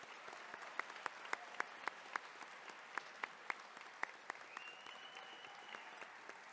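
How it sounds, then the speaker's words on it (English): Nursing graduates at a pinning ceremony receive a round of applause, heard as a steady wash of crowd clapping with sharp individual claps standing out, fairly distant and soft. "Let's give them another round of applause."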